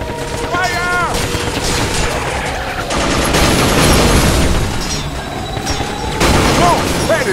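Dense bursts of gunfire from the Binary Domain video game, a loud, continuous fusillade of rapid shots with booming impacts, broken by brief shouted voice calls over the battle.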